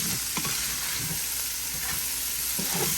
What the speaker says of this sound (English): I'm going to put a little bit more butter in.